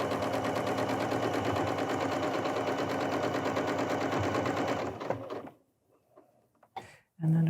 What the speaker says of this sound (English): I will go ahead and start sewing 1/4 inch all the way around